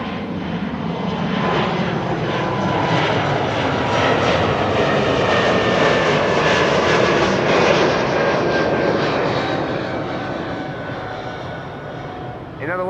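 Jet airliners roar steadily on the runways at Amsterdam Schiphol Airport, a loud continuous engine rumble that swells and holds through the whole stretch, with no talk over it.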